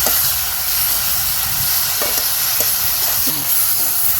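Gongura (sorrel leaf) and dry fish pickle being mixed: a steady wet hiss with faint soft stirring and scraping ticks, close and continuous.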